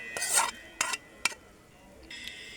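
Spices being stirred into chicken in a metal pot, in short scraping bursts with gaps between them, fairly close, with no talking.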